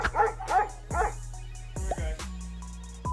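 A Labrador barks and yips in a quick cluster of close, sharp calls, followed by lower whining and tonal noises under steady background hum.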